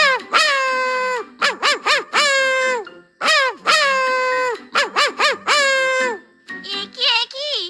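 Loud, close, harmonically rich honking calls in rapid bursts of three to five, cartoon-like and likely voiced, presented as chickens at a chicken farm in an animated story.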